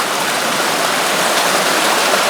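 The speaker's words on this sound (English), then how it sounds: "this is the best spring water I've ever had on a trail" Natural spring water runs steadily along a hiking trail on the Quehanna Trail in Pennsylvania, a loud, continuous close-up rush with no talking.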